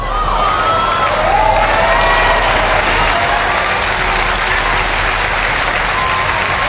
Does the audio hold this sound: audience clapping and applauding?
yes